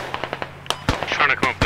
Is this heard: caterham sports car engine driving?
no